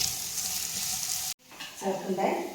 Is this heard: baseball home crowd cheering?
no